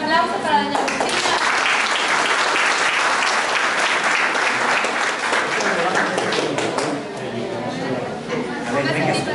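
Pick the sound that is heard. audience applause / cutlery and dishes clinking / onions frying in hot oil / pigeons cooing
audience applause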